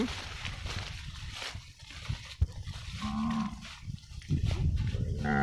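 Large fattened cattle of 600 to 700 kg mooing on a farm pasture, with low bellowing calls sounding close and loud over steady outdoor background noise.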